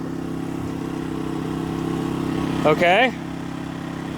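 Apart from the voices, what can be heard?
van engine starting and running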